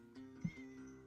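A domestic cat lets out a single short, complaining meow close by at low volume over a quiet room background.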